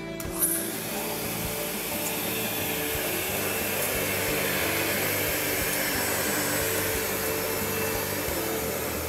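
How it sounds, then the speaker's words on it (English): A commercial vacuum cleaner runs continuously over an oriental rug, a loud steady whine with faint rhythmic bumps as it is pushed across the pile. "we're gonna go ahead and vacuum that again for the second time with a commercial vacuum"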